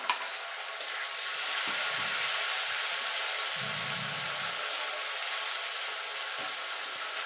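Ginger, garlic and tomato paste hits onions frying in a pan for a fish curry, setting off a steady close sizzle with a few soft stirring scrapes and bubbling under it.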